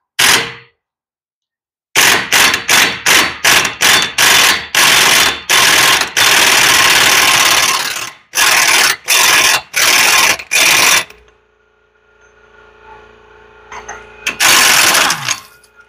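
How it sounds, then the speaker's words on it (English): Impact wrench bursts removing the front hub nut on a 2006 Chevrolet Colorado during a pad and rotor job: a long string of loud, rapid rattling hammer bursts with short gaps, then a quieter spin-down and one final burst. "I'm going to go ahead and take out this hub bolt here. Sorry, nut, not bolt."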